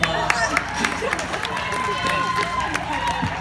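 Audience clapping at a live fan Q&A event, crowd applause blended with chatter and murmuring voices throughout.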